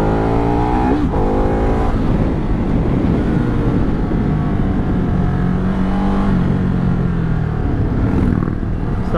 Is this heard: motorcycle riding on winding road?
yes